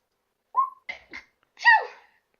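During a tabletop role-playing game session, someone sneezes once, nearby and fairly loud. A few short squeaky breaths come first, and the sneeze is a single sharp burst with no talking over it.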